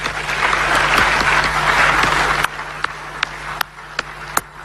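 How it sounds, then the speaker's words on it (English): Audience in a debate hall clapping for themselves, dense steady applause for about two and a half seconds, then thinning to a few scattered sharp claps. "let we all clap for ourselves"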